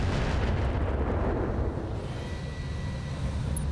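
Air strike explosions in the mech combat game BattleTech with the RogueTech mod, a dense, loud, continuous rumbling barrage of blasts that eases slightly partway through.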